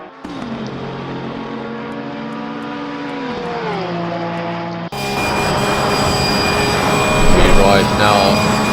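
Sim racing at Bathurst: a race car engine drones and shifts down in pitch, then after a sharp cut a louder onboard engine roar takes over, rising and falling as it revs, with no voices.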